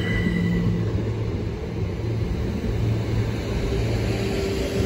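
A British Rail Class 375 electric train pulls out of Dover Priory station platform with a steady, loud rolling rumble and hum that holds throughout and has no speech.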